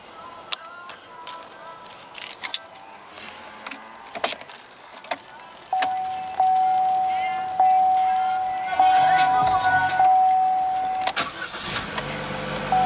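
A 2015 Chevrolet Cruze with a 1.4-liter turbocharged four-cylinder starts and settles into a steady idle, preceded by clicks and handling noises inside the car, with a brief chime and a rising hum as the engine runs.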